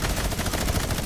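Gunfire in the video game Fortnite rattles as a rapid, evenly spaced burst of shots, loud and continuous across the moment, with no talk.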